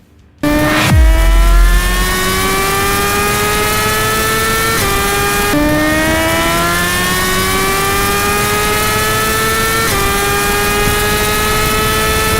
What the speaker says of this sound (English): Ripping past 280 kilometers per hour, the bike disappears into the darkness of the open highway.